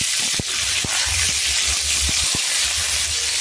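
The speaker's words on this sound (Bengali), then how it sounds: "পেঁয়াজ বাটা দিয়ে কষিয়ে নেব" Onion paste frying in hot oil with a bay leaf, cardamom, cloves and cinnamon, a steady bright sizzle with a few soft stirring knocks and clicks, no talk.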